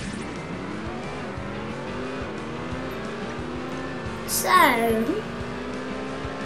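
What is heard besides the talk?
race car engines in Beach Buggy Racing video game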